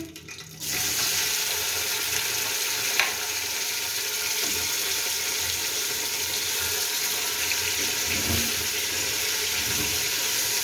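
Beef hits hot oil with whole spices such as cloves and black cardamom, and a loud, steady sizzle starts almost at once, with faint clinks of spices and the pan beneath it.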